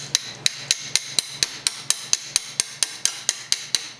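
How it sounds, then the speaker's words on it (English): Steady hammer blows drive a metal tubing extension piece into place, about fifteen sharp, evenly spaced metallic strikes ringing out close and loud with no voices. "So this one's gonna fit in here with a little bit of hammering."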